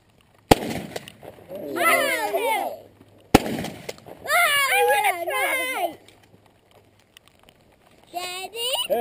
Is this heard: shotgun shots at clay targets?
yes